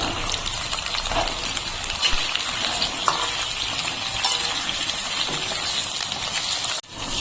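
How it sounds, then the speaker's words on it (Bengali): Potato and pointed gourd fry together in white oil, giving a continuous, even sizzling hiss that stays close and steady throughout with no talking. "আর একই সঙ্গে দিয়ে দিচ্ছি পটল। একসঙ্গে আলু পটলটাকে ভেজে নেব।"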